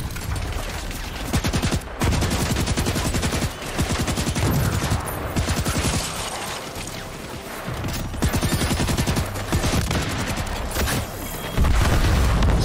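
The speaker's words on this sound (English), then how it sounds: "So we have missiles as well." Missiles explode in the Project LLL video game as heavy, booming blasts and rapid gunfire rattle in dense bursts, loud and close, with brief pauses between volleys.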